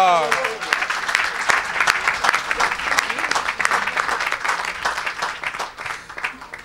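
Audience applause rolls through a church service, a dense wash of many hands clapping steadily for several seconds with a few voices mixed in, fairly loud and close.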